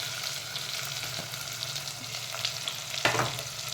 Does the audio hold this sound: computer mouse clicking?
no